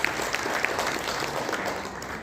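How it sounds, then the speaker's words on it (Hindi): Audience applause greets a young Vedic scholar arriving on stage at an Arya Samaj religious gathering, a steady wash of clapping from a crowd held for a couple of seconds without speech. "एक बार जोरदार ताली बजाइए"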